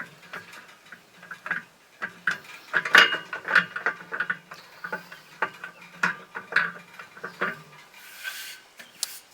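Metal side shelves and parts for a Kamado Joe Classic II ceramic grill clink, tick and rattle as they are handled and fitted together, a run of close, irregular light metallic knocks and clicks without talk.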